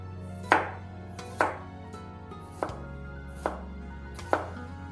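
A knife chops peeled bamboo shoot into small rounds on a board, five sharp, evenly spaced thuds heard close and alone.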